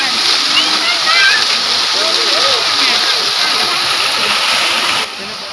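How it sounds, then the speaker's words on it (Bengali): A waterfall splashes into a goldfish pond, a constant loud rushing wash close by, with voices talking over it. "কত সুন্দর ঝর্ণা"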